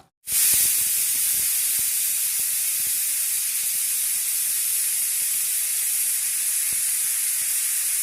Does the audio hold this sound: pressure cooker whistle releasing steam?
yes